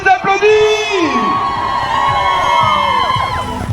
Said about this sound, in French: le public, on les applaudit